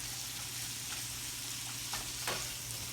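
Nacho topping sauce sizzles steadily in a pan as it finishes cooking, a close, even frying hiss with a couple of brief louder crackles near the end and a low hum underneath.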